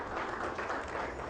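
Audience applauding as a Congolese vice-president and prime minister enter an official reception, a brief, even patter of many hands clapping at moderate, muffled level.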